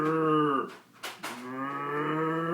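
A human voice imitates a cow, giving a loud, drawn-out moo with rich harmonics, broken briefly in the middle by a short breathy sound before the lowing resumes.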